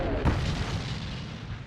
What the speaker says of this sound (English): the British and Americans are greeted with cannon fire from the Vichy French